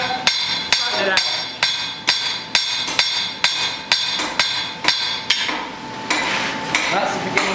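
A hammer forges and flattens the socket of a bodkin arrowhead on an anvil, with loud ringing blows falling in a steady, even rhythm of about two strikes per second and no speech over them.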